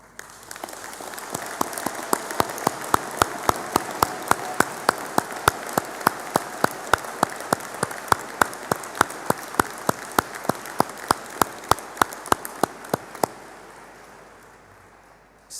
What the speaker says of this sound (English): I would ask the Certificate in Accounting and Payroll to please stand for a round of applause.